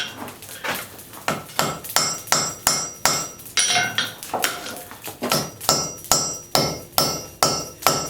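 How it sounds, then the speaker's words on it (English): Heavy hammer blows forging a railroad spike on an anvil, upsetting the end: about sixteen loud, evenly spaced metallic strikes with ringing overtones, close and steady, no talking. "Use a heavier hammer now because it's less likely to give me a cold shunt."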